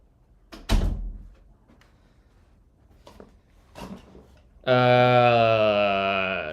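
A door thuds shut with a sharp impact, followed by faint shuffling, then a loud sustained dog bark or howl rings out near the end.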